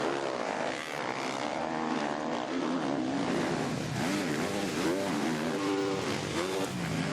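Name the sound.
Yamaha motocross bike engine revving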